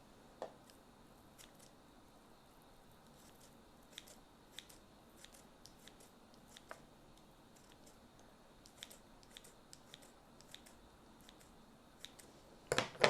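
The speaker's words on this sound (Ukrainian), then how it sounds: "Так, можна прям ножицями кухонними і нарізати." Kitchen scissors snipping food into small pieces for a baby's first solid meals, a series of quiet, close, intermittent cuts with no talking, ending in a slightly louder snip.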